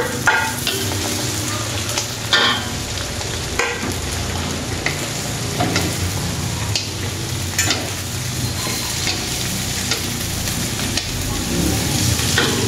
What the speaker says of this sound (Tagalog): Tapos, ilagay na natin yung green beans at saka yung cauli.